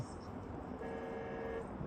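A faint vehicle horn sounds once, a short steady toot partway through, over low background noise.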